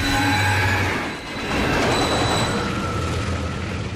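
A train rumbles along steadily in the sci-fi horror game Dead Space 2, a loud, continuous roar with faint whining tones layered over it and a brief dip before it swells again.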